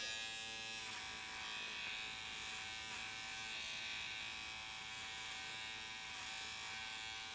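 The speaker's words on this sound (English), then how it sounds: "now I'm gonna do a little clipper over comb in some of these areas" Electric hair clippers run clipper-over-comb during a haircut on straight hair, giving a steady, close, continuous buzz that holds evenly throughout with no talking.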